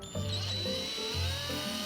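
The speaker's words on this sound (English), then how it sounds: "all it really takes is to drill holes in the walls for the screws" A power drill bores holes into a wall for screws that will hold small floating shelves, its motor whining steadily up close in several sustained bursts that shift pitch as each bit bites.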